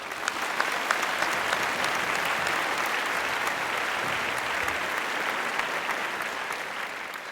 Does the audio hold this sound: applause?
yes